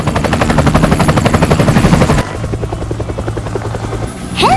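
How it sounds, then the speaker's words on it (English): A helicopter's rotor beats in a loud, steady, rapid chop that drops abruptly to a quieter, thinner thumping partway through, and a brief whooshing effect closes the sound. "H for helicopter."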